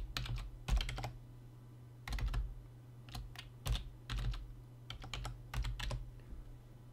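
Typing a password on a computer keyboard while setting up a Boolberry cryptocurrency wallet: irregular bursts of close, crisp key clicks with short pauses, over a steady low hum, no talking.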